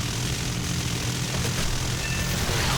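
Propeller aircraft engine in the War Thunder video game, a P-400 fighter: a loud, constant, close droning roar with a dense broadband rush and no voices over it.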